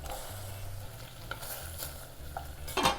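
Onions and chili fry in a pan with a low, steady sizzle, punctuated by a few stirring scrapes and a brighter clatter near the end.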